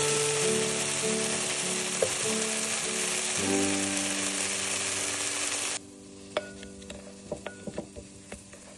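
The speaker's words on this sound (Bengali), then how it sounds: "আদাটা কষতে হবে।" Ginger paste frying in a pan for Kolkata-style chicken bharta, a steady sizzle with faint stirring scrapes that drops suddenly to a quieter crackle with scattered pops near the end.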